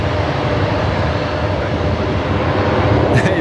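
A Qantas airliner rolling for takeoff at Brisbane Airport makes a loud, steady engine roar with a broad rumble, heard for a few seconds and unbroken by talk.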